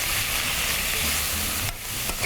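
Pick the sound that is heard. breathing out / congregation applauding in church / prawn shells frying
prawn shells frying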